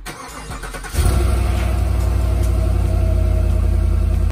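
A 2017 Cadillac Escalade V8 starts after a brief quiet moment: the starter turns over, the engine catches with a loud burst, then settles into a steady, deep idle that rumbles on close by.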